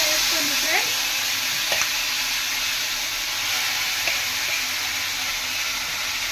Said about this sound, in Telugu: హీట్ అయిన తర్వాత ఇందాక చేసుకున్న చికెన్ చూడండి, ఈ చికెన్ని ఈ ఆయిల్లో వేసుకోండి ఫ్రెండ్స్.